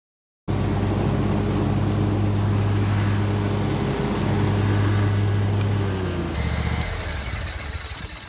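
A zero-turn mower's small engine idles steadily while warming up, a low rumbling hum, then its pitch drops and the sound tapers off slightly near the end.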